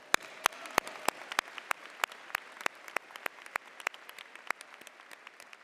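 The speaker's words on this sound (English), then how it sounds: "please join me in a round of applause." Scattered, individual hand claps ring out in a quiet hall at a University of Michigan-Flint December 2019 commencement, a sparse, distinct rhythm of separate claps honoring professors rather than a full roar.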